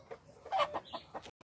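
A tiger breed rooster clucks in a short run of several close, moderately loud calls, with no talk over them.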